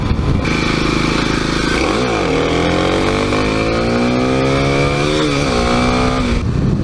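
A Kawasaki KLX300 dirt bike engine drones on a suburban trail, revving up and easing off with rising and falling tones, loud and steady throughout with no speech.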